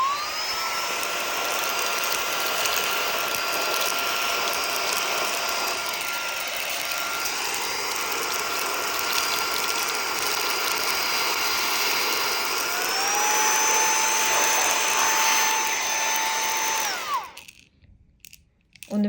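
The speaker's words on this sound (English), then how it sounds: "On the first speed, it works perfectly" A portable cordless handheld car vacuum cleaner runs steadily with a high motor whine, sucking up coffee beans from carpet and floor, its pitch shifting as the load changes before it cuts off abruptly near the end.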